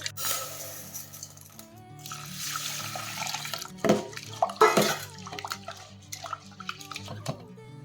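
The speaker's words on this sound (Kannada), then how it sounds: "ಕಡಲೆಬೇಳೆ ಈ ಮೂರು ತೊಳ್ಕೊಂಡು ಕ್ಲೀನಾಗಿ ಇವನ್ನ ಕಟ್ಕೋಬೇಕು" Chana dal being washed in water for vada batter, with a steady splashing and sloshing run that swells into a few louder swishes midway, close by with no talking.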